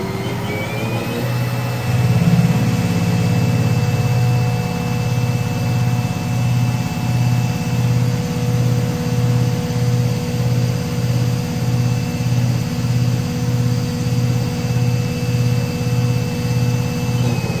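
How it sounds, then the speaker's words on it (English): Spindle of a 2005 Haas VF-3SSYT CNC machining center with 4th/5th axis spinning up after a brief start, then running steadily with a continuous high whine over a pulsing low hum, no voices. "Go ahead and fire up the spindle."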